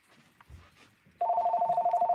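A telephone ringing with an incoming call: a steady, loud electronic ring with a rapid trill starts about midway and continues to the end, preceded by faint indistinct background murmur.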